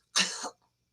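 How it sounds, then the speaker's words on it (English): A dog with allergies gives a single short, harsh cough burst lasting about a third of a second, close and fairly loud, followed by silence. "you don't often hear a dog cough"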